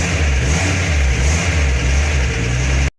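Ford F75 with its engine running and driveshaft spinning, a loud, steady low engine drone with a faint rhythmic rotating hum, close up, cutting off abruptly at the end.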